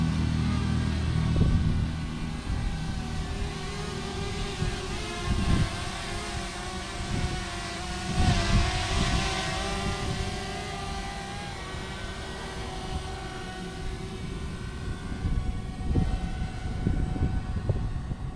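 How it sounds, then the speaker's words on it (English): A DJI Mavic Mini drone flies outdoors with a steady high-pitched whirring buzz that holds for the whole stretch, swelling slightly at times, over faint wind and handling bumps. "Goodbye, little drone."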